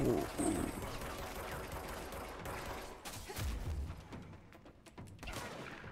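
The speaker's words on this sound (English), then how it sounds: "Who is shooting me?" Video game gunfire in the shooter Control, dense rattling bursts and sharp cracks over a thick mechanical din and booms, continuous and loud throughout, with a player's voice faintly in the mix.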